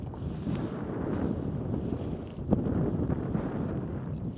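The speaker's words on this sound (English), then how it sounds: "It's the first bit of wind I've had all day" Wind gusts over an exposed mountain ridge on Skiddaw in the Lake District, buffeting the microphone with a continuous rough rumble that briefly peaks in strength.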